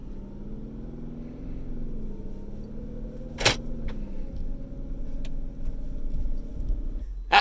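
A 2019 Mercedes-Benz G-Wagen creeps slowly off-road near Moab, its engine a low steady rumble with a sharp click and a few light knocks along the way.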